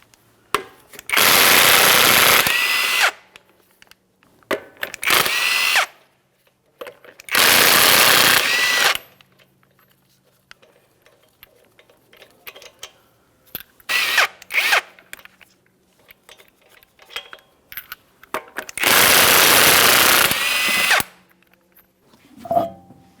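Impact tool or drill spinning off the five 22mm lug nuts on a 2011-2021 Jeep Grand Cherokee front wheel: four loud, close bursts of whirring, each lasting one to two seconds, separated by quieter clinks and handling noises.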